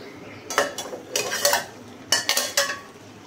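Spoon clatters against a metal pan while ridge gourd and shrimp curry is stirred, several separate clinking, scraping bursts in an irregular rhythm, close and moderately loud, with a soft background hiss and no talk.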